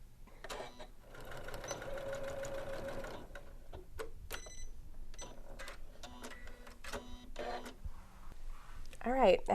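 Janome sewing machine stitching a bag lining seam, a steady fast mechanical whir in a long run early on, then shorter bursts and handling noises with some talk.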